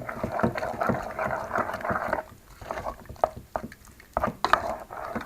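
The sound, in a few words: stirring a fruit cake mixture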